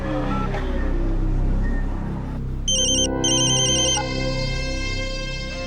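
A phone ringtone sounds partway through, a bright repeating electronic melody that starts abruptly, pauses briefly, then continues over a steady background rumble.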